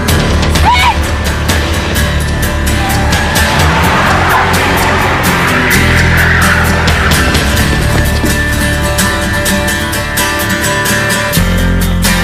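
Tires squeal as a car pulls away, a loud sustained screech rising and fading over the engine, with traffic and street noise around it.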